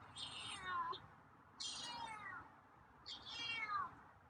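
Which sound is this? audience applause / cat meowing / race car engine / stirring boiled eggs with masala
cat meowing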